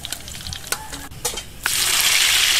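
Food in hot oil for a second fry: crackling sizzle with clicks and stirring noises, then a sudden loud rush of bubbling as more goes in, sustained and close.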